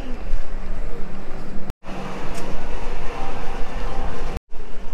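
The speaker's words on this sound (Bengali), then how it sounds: "আমরা কোয়েম্বাতুরে চলে এসেছি ফাইনালি, হচ্ছে আমাদের কোয়েম্বাতুর রেলওয়ে স্টেশন" A train at Coimbatore railway station in India gives off a loud, continuous rumble and roar, with two brief dropouts in the sound.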